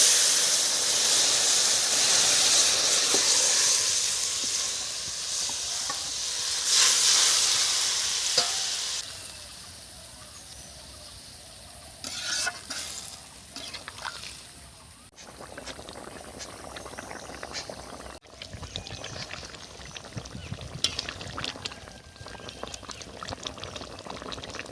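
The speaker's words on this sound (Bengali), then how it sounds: "এখন মাছের ঝোলটা ঢেলে দেবো।" Fish broth is poured into a pan of fried onions for a thin koi fish curry, producing a loud, steady sizzling hiss that eases into quieter bubbling and scattered clinks as the pan settles.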